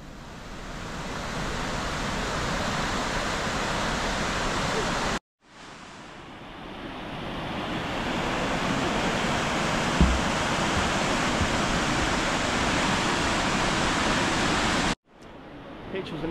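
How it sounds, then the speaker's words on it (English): Steady, loud broadband roar of rushing water at Braurfoss waterfall in Iceland, a continuous wash close by, broken twice by brief drops to near silence. "took a little detour to another waterfall called Braurfoss"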